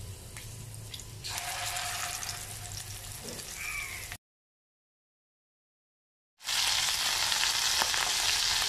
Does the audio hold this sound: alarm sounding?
no